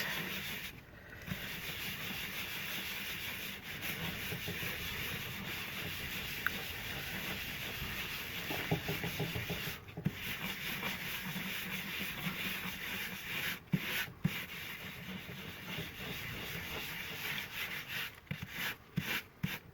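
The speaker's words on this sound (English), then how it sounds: "So again, sanding flat." Steady, even rasping of sandpaper rubbing back and forth across flat paper or card, continuous and close, with no talking.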